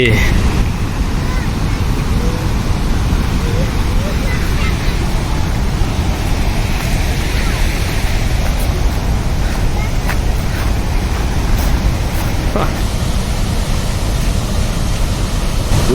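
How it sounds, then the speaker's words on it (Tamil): Steady, loud rushing water roars without a break from a nearby waterfall in Sweden, a dense wash of noise filling the whole stretch. "இங்கேருந்து பார்க்குறதுக்கே தண்ணி நிறையா போகுதுங்க"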